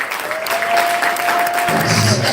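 A church congregation breaks into loud, dense applause at a sermon, a steady burst of many hands clapping close by with a faint sustained tone beneath it.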